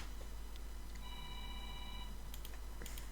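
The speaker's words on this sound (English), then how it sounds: "My phone's ringing, that scared me honestly" A phone rings faintly in a room, giving one electronic tone that is held for about a second. A few soft clicks come before and after it, and a constant low hum sits under the whole clip.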